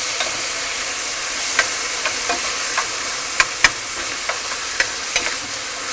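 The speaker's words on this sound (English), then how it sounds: "It's gonna give us a little sizzle." Wet spinach hits hot garlic-flavoured oil in a pan, giving a steady close hiss of frying, broken by scattered sharp pops and crackles, with no voices.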